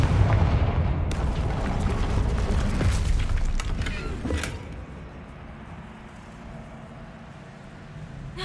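A Confringo blast spell from Hogwarts Legacy bursts with a loud, booming explosion, then a heavy rumble that fades into a quieter, low background after a few seconds.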